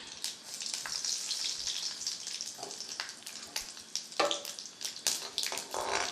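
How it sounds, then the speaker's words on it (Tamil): Mustard seeds spluttering in hot sesame oil while tempering for a banana flower kootu, a fairly faint, crackling sizzle with scattered sharp pops throughout. "கடுகு போடுறேன்."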